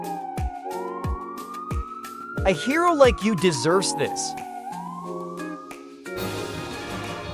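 A police car siren wails with rising and falling tones in a kids' cartoon, sounding loud and continuous under cheerful cartoon voices and music.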